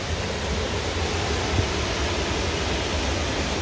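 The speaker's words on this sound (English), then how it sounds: "So we did get to see that waterfall" A waterfall beside the ruins of an old springs bottling plant in Valley Forge National Park, a dense, constant roar of falling water that stays even and unbroken throughout with no voices.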